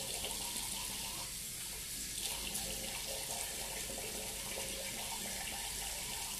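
Tap water runs steadily from a faucet into a sink as a face is rinsed during an at-home skin cleansing routine, a continuous close hiss and splash with no talking.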